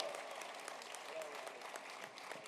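Audience applause fills a hall at a community awards banquet ceremony, a dense, steady wash of many hands clapping at moderate level, continuing without a break and without speech over it.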